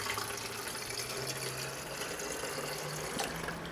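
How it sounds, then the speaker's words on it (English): Diluted coolant, half concentrate and half demineralized water, trickles steadily into the coolant reservoir of a 2008 Honda Civic Hybrid, a close, continuous liquid pour with no talking. "Now I'm just going to put a little bit in the reservoir"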